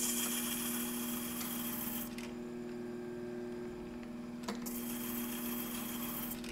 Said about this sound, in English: I'm gonna go ahead and switch the angle now to 90 degrees and bring it down for cutting the